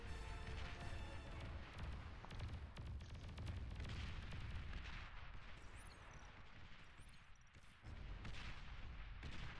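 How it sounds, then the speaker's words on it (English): Artillery in the real-time strategy game Beyond All Reason fires continuously, a dense, loud rumble of booms and blasts that barely lets up for nearly ten seconds. "Oh, here's the artillery I was talking about."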